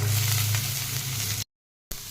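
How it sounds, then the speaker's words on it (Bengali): Eggplant and potatoes fry in a pan with onions, giving a loud, steady sizzle that cuts out briefly near the end before resuming. "ওইটার মধ্যে আমি দিয়ে দেবো বেগুন আর আলুগুলোকে, দিতে একটু ভালো করে এগুলো ভেজে যাক"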